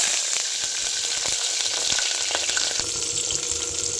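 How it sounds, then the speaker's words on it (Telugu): Green chillies and onions fry in hot oil as a steady, loud sizzle, broken by occasional stirring clicks and scrapes in the pan, with no talking. "పచ్చిమిర్చి ఉల్లిగడ్డను కూడా గోల్డెన్ బ్రౌన్ వచ్చేంత వరకు వేయించుకోవాలి"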